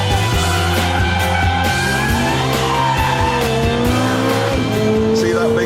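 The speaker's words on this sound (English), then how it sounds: "Letting me have a little bit of a slide there in race mode, but not too much" A Ferrari F430 slides in race mode with its new E differential, tires squealing in long rising and falling wails over the loud roaring, shifting engine, with a voice talking over it.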